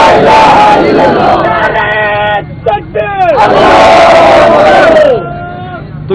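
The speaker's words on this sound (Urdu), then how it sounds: "تو یہ جو آپ نے نعرے لگائے ہیں ابھی" A large rally crowd at a speech on the Gaza situation shouts slogans in loud unison, with a leader's call and massed answering roars rising and falling in rhythmic bursts.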